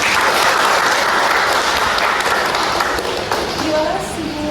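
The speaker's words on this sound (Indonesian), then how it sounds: "Nah, tepuk tangan dulu ke Yupika." Full, lively applause from a primary school class during a water-cycle lesson, loud at first and then thinning slightly toward the end as a voice comes in faintly.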